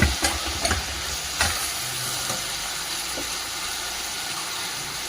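Uppittu with tomato and coriander leaves fries in a pan, giving a steady, fairly loud broadband sizzle with a few soft stirring knocks early on, close and without talk.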